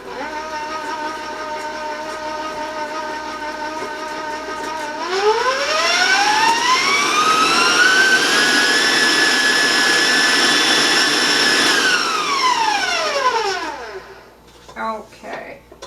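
An electric mixer creams butter and sugar at high speed for crispy oatmeal chocolate chip cookies: a steady motor hum rises into a loud whine, holds for several seconds, then winds down before a few soft knocks.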